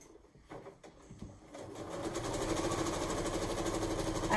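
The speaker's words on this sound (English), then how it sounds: "So then I just put this back under the presser foot and start at the corner again and sew until I get to the next corner." A domestic sewing machine stitching quilt-as-you-go rows on a barn quilt, starting with a few soft fabric shuffles and clicks, then running into a steady, fast mechanical whir that holds close and continuous to the end.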